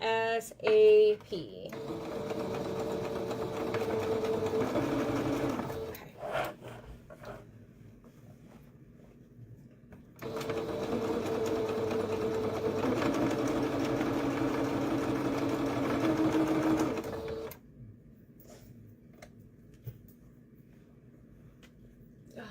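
A sewing machine stitches in two long runs, a steady close mechanical whir separated by a pause, with a brief clatter at the start and quiet after the second run.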